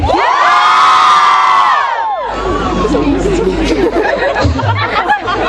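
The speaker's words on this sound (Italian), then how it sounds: "Allora, iniziamo con un urlo." A live concert crowd at an outdoor summer show in Soliera, Italy, lets out a loud, sustained shout on cue, then breaks into cheering and excited chatter that stays dense and loud to the end.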